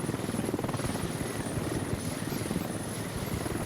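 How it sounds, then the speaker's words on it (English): In the military video game Squad, a helicopter's rotor throbs steadily and loudly, with a fast rhythmic beating and a thin high whine on top, and nothing else heard. "We do have the helicopter as we send our war reporter into the area."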